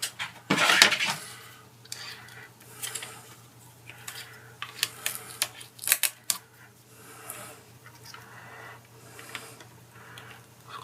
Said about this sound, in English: Set the logic board in place. Line it up with the screw holes in the case.